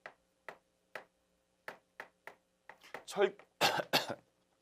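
A lecturer coughs after inhaling chalk dust in a classroom: a string of short dry coughs spaced apart, then a louder burst of rapid harsh coughing and throat clearing, close and clear.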